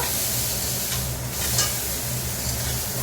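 Crab pieces fry in a pan with a loud, continuous close sizzle and hiss, marked by a few short swells of stirring and spatter, with no talk over it.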